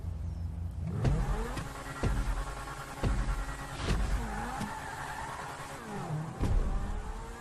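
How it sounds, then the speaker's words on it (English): A Grotti Cheetah sports car engine in GTA revs repeatedly, surging and dropping in pitch as gears shift, loud and close throughout with steady rumble underneath. "Let's hear that engine roar."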